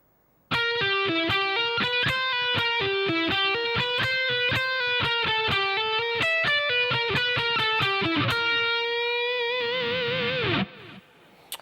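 A distorted electric guitar plays the Symphony of Destruction solo at slow tempo, a steady run of sustained, evenly picked notes that ends on a ringing half bend, loud and alone.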